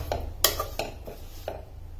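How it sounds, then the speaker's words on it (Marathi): A spoon stirs a tempered breakfast mixture in a pan, giving a few scattered scraping and clinking strokes against the metal, close and fairly soft, with no talking. "सगळीकडनं याला थोडंसं हलवून घ्यायचं"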